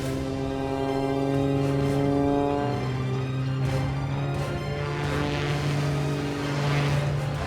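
A steady, droning propeller engine of an airshow plane in flight hums continuously at close range, its pitch wavering slightly throughout.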